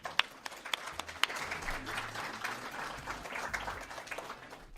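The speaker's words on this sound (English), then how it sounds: "Give yourself a round of applause." A Transgender Day of Remembrance 2017 event audience gives a quiet round of applause. Soft, diffuse clapping comes from some distance, with a few sharper claps standing out near the start, and it continues steadily under a low background hum.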